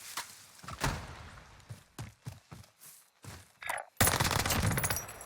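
Bursts of automatic gunfire in Call of Duty Warzone, a series of sharp separated shots and short volleys, then a dense loud sustained stretch of firing near the end.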